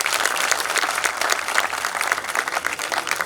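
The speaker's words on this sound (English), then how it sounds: "Give him a big round of applause to Professor Kidwai." Crowd at the inauguration of the Frank & Debbie Islam Mass Communication Auditorium at Aligarh Muslim University applauds Professor Kidwai, dense loud continuous clapping from many hands, steady throughout.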